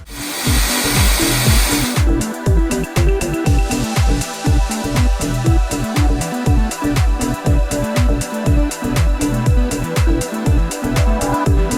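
A power tool trims plastic flat fender flares on a Jeep TJ, starting with a brief steady whine and then cutting in a loud, rapid rhythmic pulsing of repeated strokes close by.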